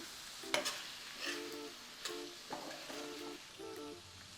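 Okra stirred into a pan of prawns for a prawn and okra curry, a soft, steady sizzle broken by repeated scraping spatula strokes and light clinks, close up and quiet.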